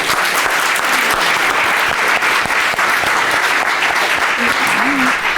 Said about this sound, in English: that's why we're applauding them both